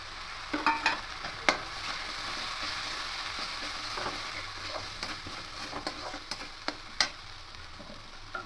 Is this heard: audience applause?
no